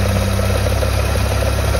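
Faulty air-conditioning compressor in a Proton Wira, running with a steady, loud, throbbing engine-like drone and heavy low rumble that holds unbroken throughout, with no voices.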